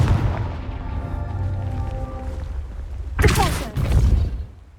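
The Confringo blasting spell fires in the Hogwarts Legacy video game, a bright burst and crackling boom standing out after several seconds of low rumbling game ambience, followed by a fading rumble.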